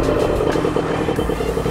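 A Sherco Factory supermoto motorcycle riding in sixth gear, with a loud, steady engine drone heard up close, no talking.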